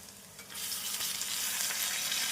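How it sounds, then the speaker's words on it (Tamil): Onions sauté with freshly added chopped tomatoes in a pan on a medium flame, giving a steady, close hiss and sizzle that swells slightly after the first half second, with no voices. "வெங்காயம் நன்றாக வதங்கவும் நறுக்கிய தக்காளி பழத்தை சேர்த்து விடலாம்."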